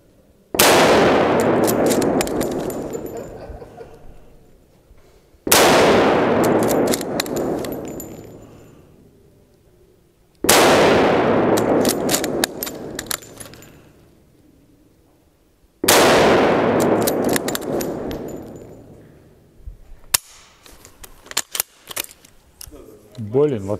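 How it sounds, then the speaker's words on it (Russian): Four loud gunshots from VPO-220 and VPO-221 semi-automatic rifles in 9.6x53 Lancaster with muzzle brakes ring out at a shooting range, each shot evenly spaced about five seconds apart with a long decaying echo, and brief clinking after the last. "Мы поедем в тир и попробуем пострелять из этих двух видов"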